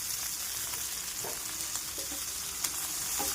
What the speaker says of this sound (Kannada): ಈಗ ಹಾಗಲಕಾಯಿ ಗೊಜ್ಜಿಗೆ ಒಗ್ಗರಣೆ ಹಾಕ್ತೀನಿ.